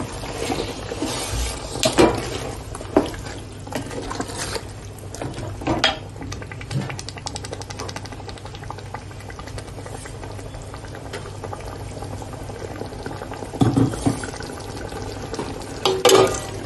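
Hot water poured into simmering Malvani mutton masala in a pot gives a continuous bubbling boil with occasional stirring scrapes and clinks, steady and close, with no talking.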